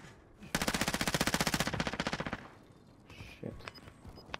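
Rapid automatic gunfire from a P90 in a Call of Duty match, a loud close burst of about two seconds followed by fainter scattered game sounds and a few distant shots.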